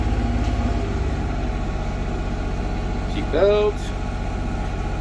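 A diesel tractor engine, preheated and warm, idles at about 2,000 RPM with a steady low chugging throb, and a person briefly says a word over it before a short high whine rises.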